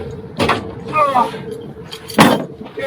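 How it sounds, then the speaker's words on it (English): A boat winch is cranked tight aboard a vessel, giving a few short mechanical ratcheting clicks and creaks in separate bursts, close and fairly loud. "tighten that winch up"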